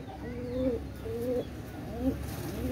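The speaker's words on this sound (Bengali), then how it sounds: "একদম চিকন ফেদারের কবুতর" A Chinese teddy pigeon with fine feathers coos softly three times in a rhythmic series over a faint room background.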